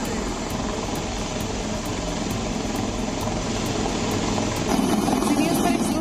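Indian Air Force rescue helicopter flying over dense forest during flood rescues, a continuous loud rotor and engine roar with faint rhythmic blade thumps, steady throughout and growing slightly louder near the end.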